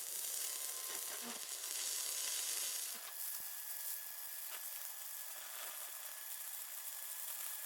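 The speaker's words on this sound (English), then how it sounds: "but I can weld the top of this" Welding on a steel shaft for a homemade crane build: a steady, crackling sizzle runs continuously for several seconds, fairly faint and uninterrupted, with no voice.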